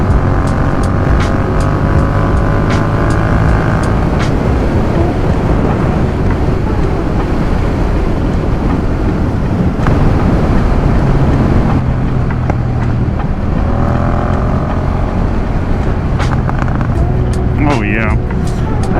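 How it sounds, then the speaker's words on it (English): A car exhaust gives off a steady, loud, close rumble with wind buffeting the microphone throughout. Distinct pops are hard to pick out. "That exhaust is an absolute beaut."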